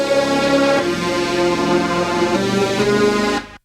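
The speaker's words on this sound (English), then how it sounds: "I actually just stacked this sound. It's called Hybrid String Stack, and then there's a sound called Polypad." Stacked synth pads, a hybrid string stack layered with a polyphonic pad, hold sustained bright chords that shift midway and then cut off abruptly at the end, steady and alone.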